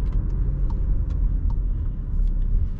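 A heavy car in comfort mode at full throttle gives a deep, steady engine and road rumble from inside the cabin, with small ticking noises over the drone.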